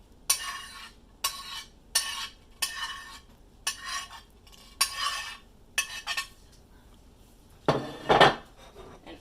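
Sausage and vegetables go back into a skillet with a series of close, distinct scraping and clinking stirs, about eight separate strokes with short pauses between them, over a faint sizzle.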